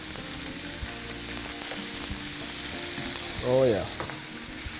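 Chicken legs sizzle steadily in olive oil in a pan, a continuous fry that runs throughout, while a voice briefly speaks near the end.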